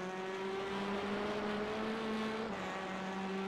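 A TCR touring race car engine in the iRacing sim racing game at Oulton Park, droning steadily with a sustained tone that shifts slightly once, loud and constant throughout.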